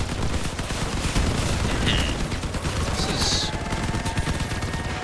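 Several machine guns fire nonstop in the vehicle combat game Crossout, alongside a synthesis weapon, producing a dense, loud, rattling barrage that fills the whole stretch without a break.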